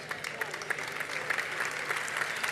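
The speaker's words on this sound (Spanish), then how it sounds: "Este aplauso, por favor." An outdoor festival crowd in Cehegín, Spain, applauds at the crowning of the festival queen and court, steady mid-level clapping that continues throughout.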